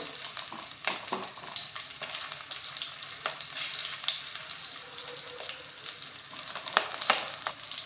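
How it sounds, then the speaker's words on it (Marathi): Green chilli pieces and ginger sauté in hot oil with a quiet, continuous sizzle. Occasional clicks and scrapes from stirring come through, and nobody speaks. "त्याच्यामध्ये मिरच्या आणि आलं टाकलं आहे ते थोडं परतून घेऊया"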